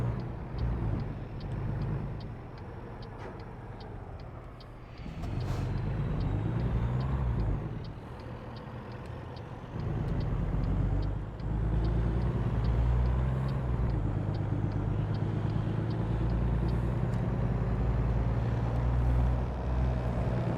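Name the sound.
truck engine driving in American Truck Simulator video game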